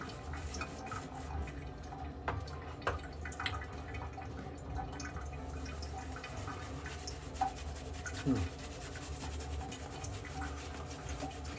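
Gillette Planet Kind shaving soap is worked with water into a lather, giving soft, close, wet squelching and dripping sounds that run quietly and continuously with occasional small clicks and taps.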